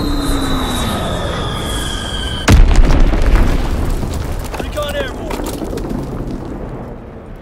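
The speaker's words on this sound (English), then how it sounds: "Enemy bomb incoming." Bomb explosion in Call of Duty: WWII, a sudden loud close blast that cuts through an ongoing siren-like tone and rumbling battle noise, then decays into a long low roar.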